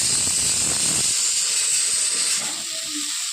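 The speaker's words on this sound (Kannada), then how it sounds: "ಎಣ್ಣೆ ಮತ್ತೆ ನೀರುಳ್ಳಿ ಫ್ರೈ ಮಾಡಲಿಕ್ಕೆ ಇಟ್ಟಿದ್ದೇನೆ" Onions frying in hot oil for chicken sukka, a loud continuous close hiss and sizzle that eases slightly toward the end, no talking.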